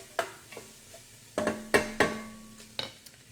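A spoon stirs turkey curry soup in a pot, giving about eight sharp clinks and scrapes against the metal, spaced irregularly and ringing briefly, close and fairly quiet with a faint simmer underneath.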